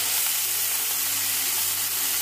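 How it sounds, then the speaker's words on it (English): Oil, chopped onions, pepper and tomatoes fry together in a pan for a fish curry, making a dense, even sizzle that holds steady and close throughout. "In that pan you add the oil, chopped onions, pepper"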